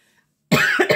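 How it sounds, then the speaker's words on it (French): A single sharp cough right up close, a loud burst of two or three quick pulses after half a second of near silence. "j'ai toussé dedans, tiens"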